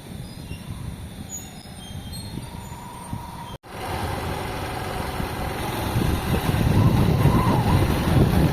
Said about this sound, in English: so I'm riding with one hand. Just keep it in second gear.